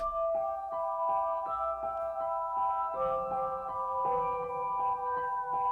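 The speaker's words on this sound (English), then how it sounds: "It's using the piano shimmer preset in the Pharaoh Vice Fairfax library." A shimmering piano shimmer synth preset from the Pharaoh Vice Fairfax library plays sustained chords without effects over a steady rhythmic pulse, bright and continuous with no voices.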